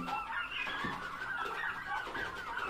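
Turkeys on a farm cluck and gobble close by in a quick, irregular run of calls over faint background noise.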